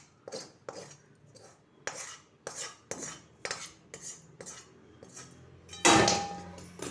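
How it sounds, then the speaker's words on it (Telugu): A spoon clatters and scrapes in a metal kadai on the stove as tempering with turmeric and peanut powder is mixed into fried rice, repeated sharp clinks at a steady rhythm, then a louder clattering jolt as the pan slips near the end. "మూకుడు జారిపోయింది కొంచెం."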